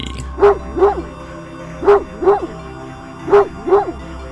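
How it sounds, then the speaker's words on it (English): A large dog in a horror video game barks excitedly in three paired bursts, each a quick double bark, close and fairly loud with pauses between. "A series of excited barks shirks your gaze forward as you see a large dog sprinting towards you."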